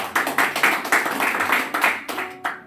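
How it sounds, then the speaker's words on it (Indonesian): A church service audience claps in a short burst of separate, uneven claps, fairly close, with no talking over it. "Beri tepuk tangan dulu dong."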